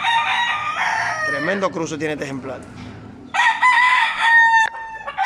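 A fighting rooster crows loudly and close, a long strained call at the start and another piercing crow near the end, with someone talking in between.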